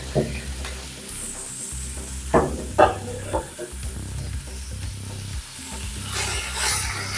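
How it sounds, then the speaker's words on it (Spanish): Chorizo or longaniza sizzling in its own fat in a Ninja Foodi while being stirred, a continuous crackling fry with intermittent scraping knocks of the utensil, close and fairly loud. "echamos la longaniza o el chorizo. A que igual sofría y eche toda su grasa."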